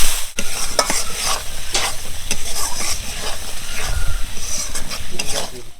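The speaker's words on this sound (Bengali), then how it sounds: "এবার হালকা একটু জল দেব মশলা কষানোর জন্য।" Spices for rui fish dopiyaza fry loudly in a pan as a splash of water is added, bringing a bright hiss with frequent stirring scrapes and clinks throughout.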